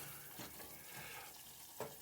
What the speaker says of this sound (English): It's still sizzling, but it's more bubbling now